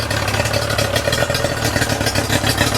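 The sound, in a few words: restored Yamaha outboard motor running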